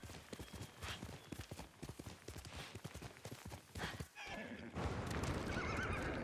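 Horse in the game Ghost of Tsushima whinnies loudly over a steady, rhythmic clip-clop of hooves that runs throughout, with a brief lull near the end before busier galloping and ambient noise.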